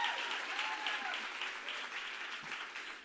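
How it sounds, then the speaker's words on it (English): Applause fills the hall at a political summit, a sustained, fairly distant wash of clapping that carries on for about three seconds. "a round of applause"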